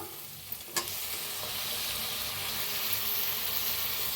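Onion and tomato masala frying in oil in a pan: a soft, steady sizzle running throughout, with a couple of quick spoon clicks near the start and no talking.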